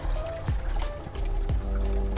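Water rushes through a G60 filter unit as its supply valve is opened during a cartridge change, a steady close hiss and trickle with a few soft clicks and knocks from the fittings.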